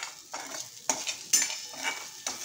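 Soaked sago pearls sautéing in ghee in a kadhai, with repeated scraping stirs against the pan over a soft, steady sizzle, the strokes coming in uneven bursts at close range.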